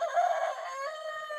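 A rooster crows loud and near in one long drawn-out call that trails off, with no other sounds.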